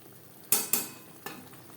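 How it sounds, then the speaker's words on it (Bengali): Chickpeas and spices sauté in a pan over a low to medium flame: a soft steady sizzle broken by three quick scraping spatula strokes. "লো টু মিডিয়াম ফ্লেমে তিন চার মিনিট ছোলার সাথে মশলা বেশ ভালো করে কষিয়ে নেব"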